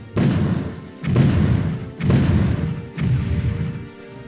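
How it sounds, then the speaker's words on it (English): Artillery bombardment in the wartime strategy game Battle Academy: four heavy shell impacts land about a second apart, each a loud, deep, rumbling boom that swells and then fades before the next one hits. "I'm going to bombard the area"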